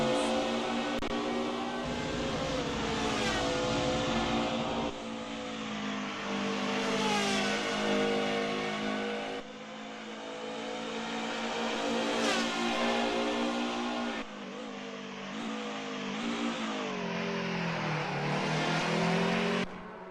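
Classic DTM race cars in a sim racing game roar at high revs, engines climbing and shifting through gears in long sweeps, several cars close together and loud, with a steady layered drone throughout.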